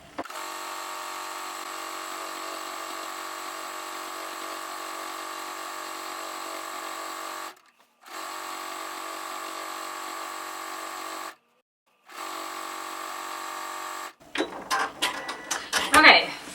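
A sewing machine quilting a wavy stitch runs in steady continuous bursts, pausing twice briefly, then gives way to clattering handling noises near the end; no one speaks.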